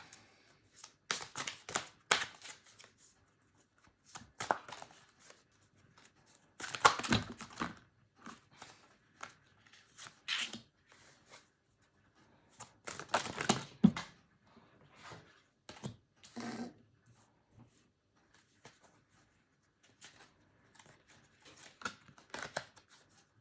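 Oracle cards shuffled by hand for a draw, repeated riffling bursts and soft slaps in irregular clusters, close and crisp against near silence, without speech.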